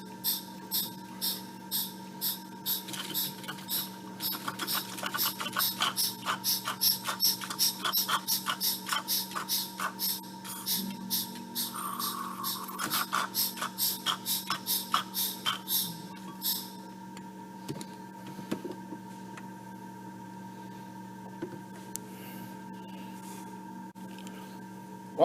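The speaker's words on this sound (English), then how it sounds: "I'm going to start pumping. It'll start sucking this fluid into that can." A hand vacuum pump draws brake fluid from a Corvette's front master cylinder into a catch can, giving a quick run of regular, evenly spaced clicking strokes over a faint steady hum, which then stop and leave only the hum.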